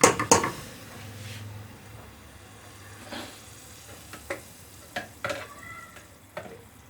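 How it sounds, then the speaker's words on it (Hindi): Ghee heats in a cooking pot on a stove while a potato and egg curry is prepared, giving a faint, steady sizzle under a few sharp clinks and stirring scrapes of metal against the pot. "घी डालते हैं।"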